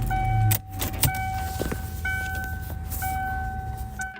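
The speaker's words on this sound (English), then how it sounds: "So we're going to start this one up. We'll listen to the engine, the idle" A 1999 Ford Mustang SVT Cobra convertible turns over and fires up, a brief loud crank and catch settling into a steady, low idle with a few faint clicks and warning chimes around it.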